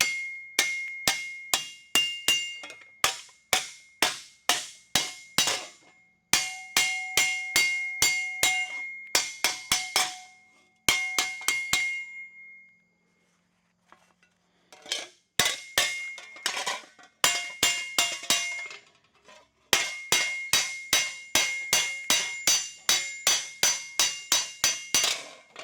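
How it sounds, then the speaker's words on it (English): Rapid, ringing metallic hammer blows on a metal bracket on an anvil come in bursts of quick strikes, separated by short pauses. "We're just going to lay it right there and start hammering."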